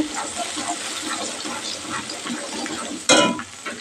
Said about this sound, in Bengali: দেখো আমার মশলাটা কষে যাচ্ছে